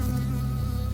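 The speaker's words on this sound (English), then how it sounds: "Oh, the bee." A bee buzzes close by in the video game Firewatch, a steady insect drone with no speech.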